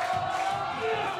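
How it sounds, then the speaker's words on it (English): Wrestling crowd at a live pro wrestling show cheering, a loud sustained roar of many voices with shouts, steady throughout the short stretch. "The crowd loving it. They're cheering for Ace to just not stop chopping him."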